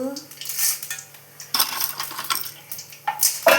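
Mustard seeds and lentils rattle and patter into a metal pan in three quick bursts, sharp sizzling clatters separated by brief quieter moments.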